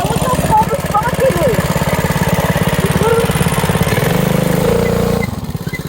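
A Coleman mini bike fitted with a new Predator 212 small engine runs loud and close, its steady pulsing putter continuing throughout and deepening briefly near the end before dropping off, with voices over it.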